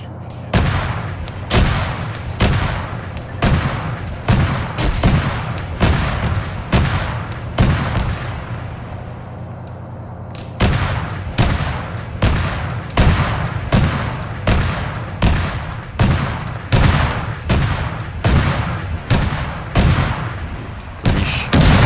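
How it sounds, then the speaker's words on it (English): Repeated bursts of rifle and artillery-like gunfire from friendly soldiers in the military game ArmA 3, loud sharp reports in rapid irregular succession with a brief lull midway before the firing resumes. "Friendly shooting."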